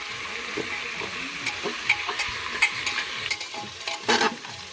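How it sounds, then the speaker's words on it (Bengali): Carrots and other thickly cut vegetables fry in a hot pan with a steady sizzle, punctuated by several sharp scrapes and clacks of stirring, loudest near the end, close and with no one speaking. "তো এগুলো একটু ভালো করে ভেজে নিচ্ছি"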